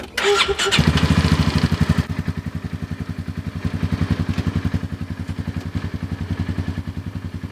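A cheap 2020 four-wheel-drive gas UTV with electronic fuel injection cranks briefly and catches, then settles into a steady, rhythmic, close-up idle chug with no talking.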